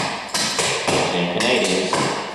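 Clogging double steps danced to the side, a quick run of sharp hard-shoe taps in short bursts, close and clear with a faint voice underneath.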